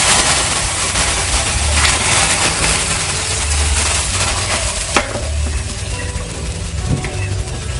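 Water hits a hot pan of ingredients dry-roasted to dark brown on a stove, giving a loud, steady hiss of sizzling steam that lasts throughout with a few sharper crackles.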